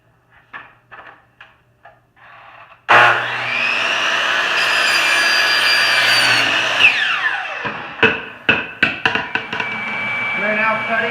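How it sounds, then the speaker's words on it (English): A power saw cuts 4-inch PVC pipe for a potato cannon's combustion chamber with a loud, sustained whine that rises, holds, then winds down, followed by knocks and clatter. A voice talks briefly before the cut. "I am now going to cut the 4-inch PVC for the combustion chamber."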